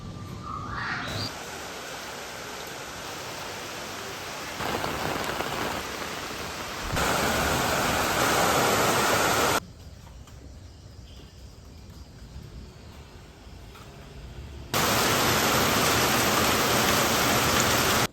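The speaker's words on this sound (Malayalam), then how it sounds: "ഇപ്പോൾ മഴ കുറഞ്ഞു." Steady rain hisses outside a gym, a dense broadband wash that swells and drops in loudness several times over the stretch, sometimes louder and sometimes softer, with no voices.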